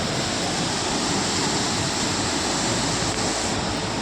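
Water rushes through two opened gates of Mallavaram dam in a loud, steady, broadband roar that continues unbroken, with no voices over it.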